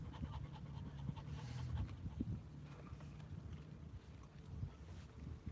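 A dog pants rapidly and steadily close by, a continuous breathy rhythm under gusty wind and faint water noise, with no talking.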